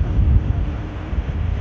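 Strong wind buffeting the microphone at a hilltop viewpoint near Kalimpong, a steady low rumbling roar with brief gusty surges and no speech.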